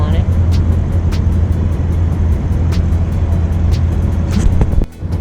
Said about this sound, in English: This is the subway or the metro bridge, and cars go on it